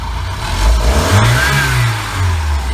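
A 1976 Starcraft boat's engine, fitted with electronic ignition, revs up in gear under load, rising quickly in pitch and staying loud and close, with no one talking.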